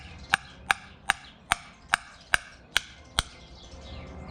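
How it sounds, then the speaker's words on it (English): A part of a 1978-1984 Porsche 928 power steering pump is tapped down onto its locating pins, giving eight sharp, evenly spaced knocks close by and with no talk. "it just slides on those pins, and so let's give that a few taps"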